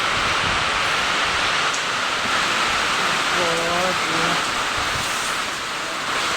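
Steady loud roar of strong wind and heavy rain lashing areca palm trees, filling the whole clip, with a brief voice rising faintly through the noise.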